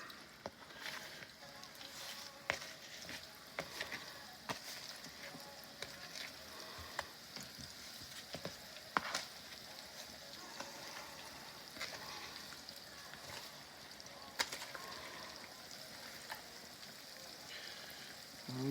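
Meatballs sizzle and crackle in hot vegetable oil in a pan, a steady bright frying hiss with scattered pops and occasional utensil clicks, quiet and close, with no talking over it.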